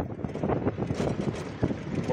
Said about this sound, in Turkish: Çok rüzgar var ya.